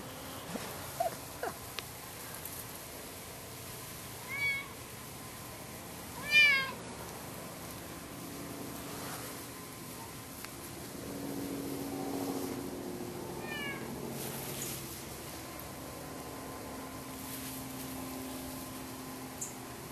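Cats meowing in a tense standoff, a few short harmonic cries spread across a quiet indoor room, with one louder meow near the middle and fainter calls later.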